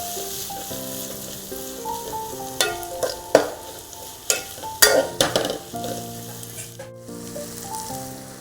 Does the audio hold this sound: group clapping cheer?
no